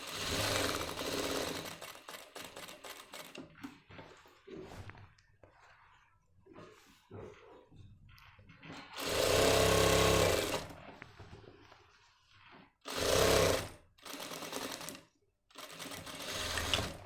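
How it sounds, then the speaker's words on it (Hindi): A sewing machine stitches a Nehru jacket in several loud, buzzing bursts of rapid needle action, with quieter pauses and handling noise between runs. "तो हमें यहाँ सिलाई मारनी है।"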